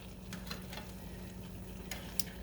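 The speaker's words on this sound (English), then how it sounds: "Stir that around." A spoon stirs apples and sugar in a pan, with soft scraping and a faint sizzle, quiet and close, plus a few light ticks.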